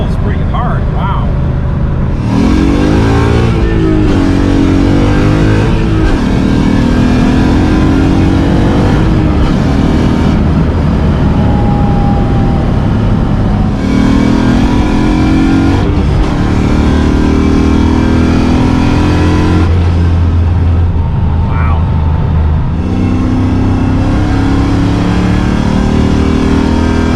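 A Coyote V8-swapped 1985 Mustang notchback pulling hard, its engine rising through the revs in several strong acceleration runs with brief dips between shifts, loud and close, with occasional talk inside the car.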